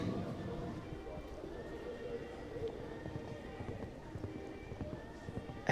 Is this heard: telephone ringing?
no